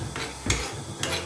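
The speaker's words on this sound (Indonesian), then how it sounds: "Terus mau goreng bawang putih cincang ya" Minced garlic sizzling as it is stir-fried in a hot pan, with a few metallic scrapes and clinks of a utensil stirring, close by, no voices.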